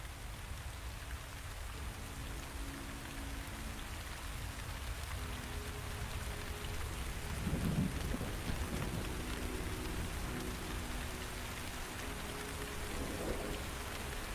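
Steady rain pattering on surfaces in a video game storm scene, a constant hiss with a low thunder rumble swelling briefly midway, no speech over it.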